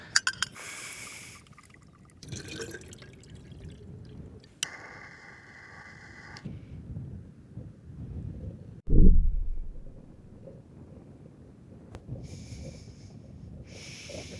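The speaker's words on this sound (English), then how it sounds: "I bought some dehydrated lunch with me. Just need to add hot water" Hot water from an Eydon storm kettle is poured outdoors into a pouch of dehydrated lunch, giving a brief, close liquid rush amid quiet outdoor background and scattered small knocks.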